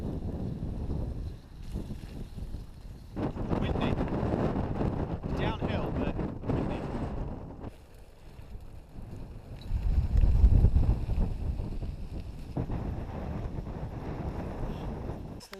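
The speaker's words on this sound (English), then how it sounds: "Windy." Steady wind roars and buffets the microphone on a downhill stretch of a bikepacking ride across the North York Moors, rising into a louder gust midway, with brief talk over it.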